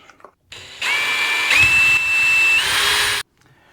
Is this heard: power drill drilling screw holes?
yes